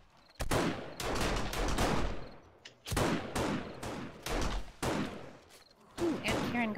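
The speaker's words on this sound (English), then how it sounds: "I think it's shotgun time." Rapid shotgun blasts in the zombie survival game 7 Days to Die during a horde night, several loud close bursts of overlapping shots separated by short pauses, with no talk.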